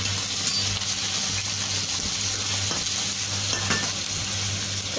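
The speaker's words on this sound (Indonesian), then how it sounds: "kita goreng" Pumpkin frying in hot oil in a large wok as it is stirred, a continuous loud sizzle with scraping stir strokes, no talking.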